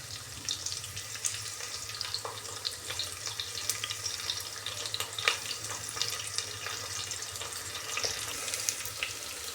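Two medium onions frying in a pan for Karnataka-style tomato rice, giving a steady, even sizzle with faint scattered crackles and occasional spoon stirs, close and continuous.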